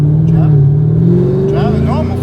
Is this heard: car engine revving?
yes